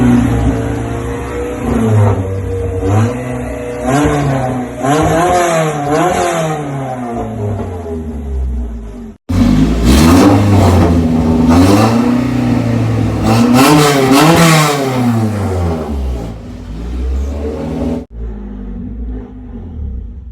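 A Honda EF with an H22 engine drives and revs loudly and up close, with rising and falling engine pitch through repeated acceleration pulls, a brief cut, then more revving before easing off.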